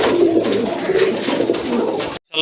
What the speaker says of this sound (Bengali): আরেক জোড়া কবুতর, এটা হচ্ছে কাগজি কবুতর, একদম পিওর হোয়াইট